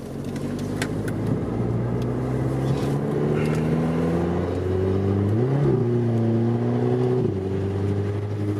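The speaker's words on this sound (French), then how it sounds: "La petite mélodie Du TT, du TT. 4 cylindres turbo." Audi TT four-cylinder turbo engine on a winding race circuit, a steady loud onboard drone that climbs through the revs, drops sharply at gear shifts and climbs again, with no talking.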